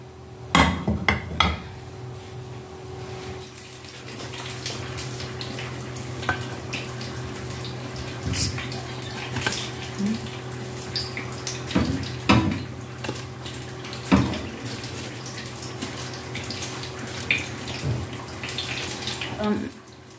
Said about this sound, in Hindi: इसी तरह से बाकी सारे भी फ्राई कर लेते हैं।